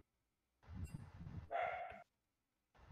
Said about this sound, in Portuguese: Tem um cachorro lá.